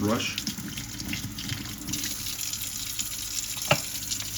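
Water from a single-sink tap runs steadily as a scrubbing brush is rinsed beneath it, with light splashing and a brief sharp clatter near the end, close and moderately quiet.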